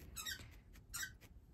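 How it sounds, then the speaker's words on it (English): A dog chomps a squeaky toy ball, producing two bursts of high, sharp squeaks followed by a few softer squeaks, close and faint, with no talking. "sorry about the Rip squeaking his ball"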